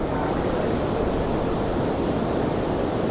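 Fast river water rushes near a waterfall after Hurricane Helene, a dense, continuous roar that stays steady and loud throughout with no voices.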